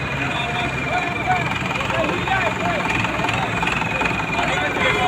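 A Sonalika tractor engine idling, ready to pull a trolley, a steady throbbing low rumble close by, with someone talking over it throughout.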